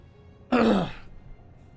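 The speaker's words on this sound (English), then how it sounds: "clear my throat" A single throat clearing close to the mic, one rough burst of under half a second that breaks the quiet, with a faint groan-like tone at its start and silence after.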